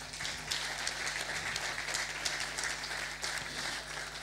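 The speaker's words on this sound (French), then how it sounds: "On vous applaudit." Seminar audience at an agricultural technology conference applauds, a quiet, distant spread of many hands clapping steadily over a low constant hum in the room.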